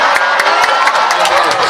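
A large student audience at a university Q&A with a presidential candidate in Kupang bursts into loud, dense cheering and clapping, shouts and whoops blending into a continuous crowd roar.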